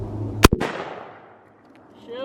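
A single 22-250 rifle shot striking a level 4 ceramic armor plate outdoors: a sharp, loud crack with a second impact right behind it, a decaying echo, then quiet before a voice begins at the end.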